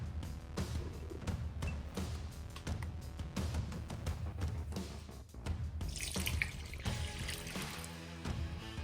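Water running and pouring into a mixing bowl holding plain flour and salt for salt dough, a steady splashing trickle that continues throughout, loud and close, with a brighter rush near the end.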